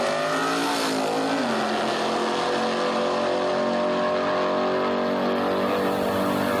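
A big block Chevy powered drag racing car roars steadily at a raceway, its engine loud and sustained throughout with a rising pitch early on.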